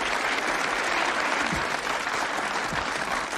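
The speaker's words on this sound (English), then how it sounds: "Let's give Louise a nice, warm round of applause." Warm round of applause from an audience honoring a committee chairwoman at a civic welcome-home gathering, steady dense clapping filling the whole stretch at close range with no talk over it.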